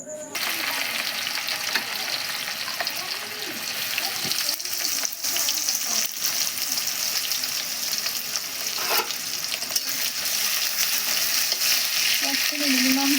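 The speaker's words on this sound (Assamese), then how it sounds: "এয়া হাঁহৰ মাংসটো ভাজি আছোঁ" Duck meat sizzling in a wok with ginger, cumin, garlic and onion paste, a steady bright crackling hiss, close and continuous, with occasional stirring scrapes and faint voices in the background.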